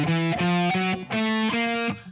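A distorted electric guitar plays a stoner rock riff, with the flatted fifth among its passing tones: a few sustained, heavily overdriven notes that change in steps, loud and up close, with no voices.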